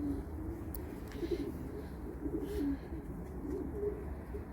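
Low, soft cooing of pigeons repeating through a steady background hum, fairly faint and continuous.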